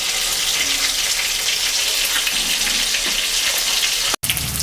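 Katla fish fries in hot oil with a steady, loud crackling sizzle throughout, close up and alone, with a brief cut near the end.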